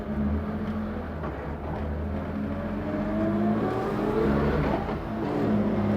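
A loud, steady engine drone from inside an unsoundproofed race car, built up from a wreck, carries layered transmission whine, tyre roar and driveline rumble, with pitch rising and falling as it accelerates.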